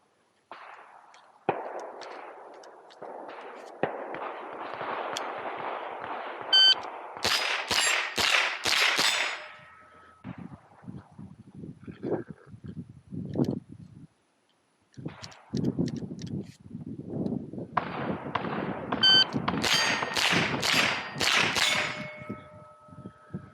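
Rimfire rifle shots striking steel plates at a target shooting challenge, with strings of sharp cracks and ringing metallic pings in two rapid volleys separated by brief quiet gaps.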